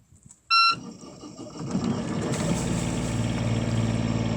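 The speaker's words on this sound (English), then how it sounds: "To start the engine, press the top right button." A short electronic beep sounds, then a boat's diesel engine cranks and catches, settling into a steady, throbbing diesel rumble that continues to the end.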